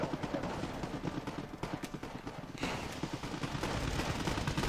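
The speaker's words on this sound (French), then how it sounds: "Tout en envoyant quelques tirs d'artillerie." Artillery fire in the real-time strategy game Wargame Red Dragon, with a dense run of rapid cracking impacts and thuds repeating steadily throughout, swelling slightly louder toward the end, with no talk.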